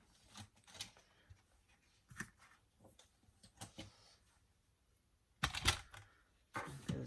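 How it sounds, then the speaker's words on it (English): Card stock being cut down to a smaller size for wreath card making, heard as scattered crisp snips and slicing clicks, with two louder, sharper bursts near the end. No one speaks. "I'm gonna cut this a little bit smaller."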